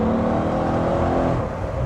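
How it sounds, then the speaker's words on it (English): A Mercedes-Benz E63 AMG S exhaust revving loudly and steadily nearby in comfort mode, a deep continuous engine roar that holds throughout. "But listen to that exhaust note."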